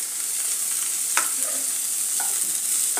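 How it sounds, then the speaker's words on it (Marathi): Finely chopped capsicum fries with other vegetables in a pan, producing a bright, constant sizzle. A few light clacks come from stirring, and no one speaks. "आता यात घालणार आहोत अर्धा कप मी शिमला मिरची बारीक कापून घेतलेली आहे"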